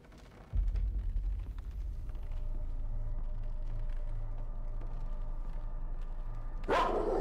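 A dog barks in the horror video game Layers of Fear Remastered, a sudden loud onset followed by a steady low rumbling, growling layer that holds throughout, with a sharp burst near the end.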